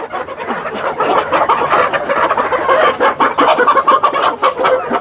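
A crowded room of native country chickens keeps up a loud, busy chorus of overlapping clucks and short squawks, steady throughout and close by.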